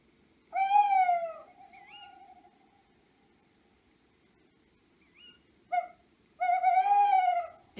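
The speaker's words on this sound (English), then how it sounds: "it's actually only the male tawny owl that says twitwoo, twitwoo" A male tawny owl hoots clearly in a quiet night, a long wavering call, a fainter note, then short and drawn-out hoots again.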